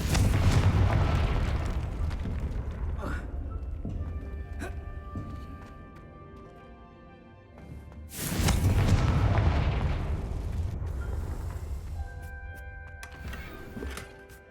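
A Confringo blasting spell in Hogwarts Legacy erupts in a loud, booming explosion, then a second heavy blast follows about eight seconds later, each trailing off into rumbling debris and magical ringing tones.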